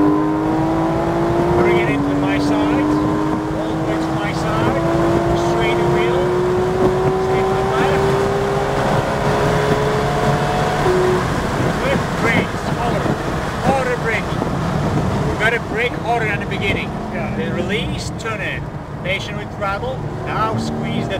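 Porsche 911 GT3 RS engine revving hard on the New Jersey Motorsports Park race track, rising tones climbing through gears with brief drops at shifts, loud and close, under an instructor's steady in-car coaching.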